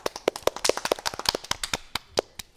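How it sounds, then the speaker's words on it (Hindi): Children clapping for a poem recital on a kids' show, a series of sharp, separate hand claps of varying loudness, close and fairly loud, thinning out toward the end with no talk over them. "इनके लिए एक बहुत ज़ोरदार तालियां बजा दो"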